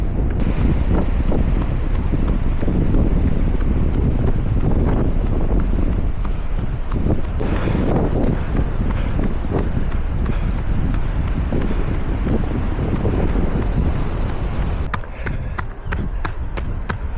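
Strong wind buffets the microphone of a runner on an outdoor parkrun course, a loud continuous roar with gusty swells that eases near the end.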